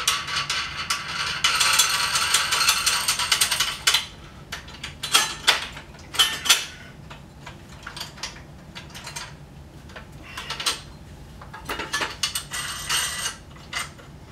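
A nut is tightened on the accessory tray of a Celestron Evolution telescope tripod, giving close ratcheting clicks and metallic rattles in irregular bursts with quiet pauses between them.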